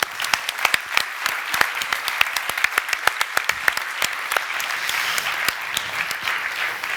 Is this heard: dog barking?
no